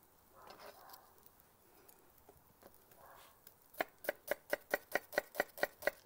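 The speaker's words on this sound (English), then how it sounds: "I'm just finally chopping up my onion" A knife chops an onion on a board in an outdoor backyard kitchen: about a dozen crisp, evenly spaced cuts come close and clear after quiet moments with faint talk.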